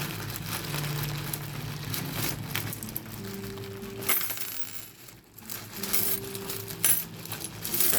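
Old coins clink and jingle as a bag holding them is opened and poured out, with dense metallic rattling, crinkling of the bag, and a brief lull before more scattered clinks.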